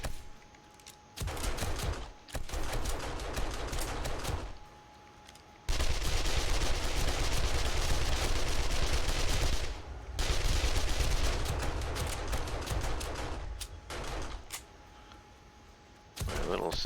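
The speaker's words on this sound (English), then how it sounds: "My little submachine gun down there is doing pretty good work." A submachine gun turret in 7 Days to Die fires rapid bursts of automatic gunfire during horde night, several long loud stretches broken by short pauses, with a voice heard faintly between bursts.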